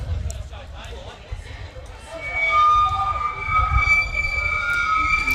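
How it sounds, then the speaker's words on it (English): A half-time siren sounds at a second-grade rugby league match between Tamworth Magpies and Robb College. The long, steady, sustained tone rises in from a distance over crowd noise and commentary. "That must be the siren."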